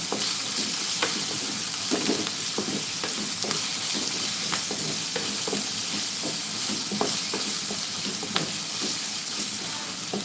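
Ginger and garlic sautéing in a hot pan: a steady, loud sizzle runs throughout, broken by frequent light scrapes and taps of a stirring spoon.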